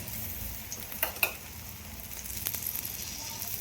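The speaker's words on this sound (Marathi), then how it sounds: "याच्या कडेने मी तेल टाकून घेणार आहे" Steady oil sizzle as a wheat flour dhirade pancake fries in a pan, with a couple of faint clicks of a utensil partway through and no talking.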